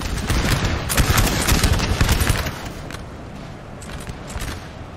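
Dense crackling musket volleys from light infantry in the video game Napoleon Total War 3, loud rolling gunfire for the first half, then thinner scattered shots.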